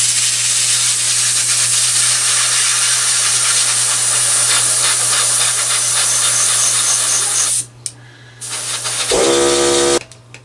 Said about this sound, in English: let's go ahead and do some airbrushing here